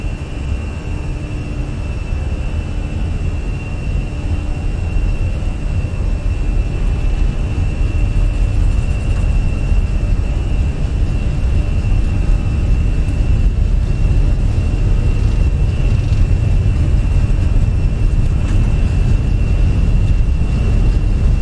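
Airbus A320 engines spooling at takeoff thrust in the Fenix A320 flight simulator, a loud, sustained roar with a steady high whine running through it, continuous for over twenty seconds without talk.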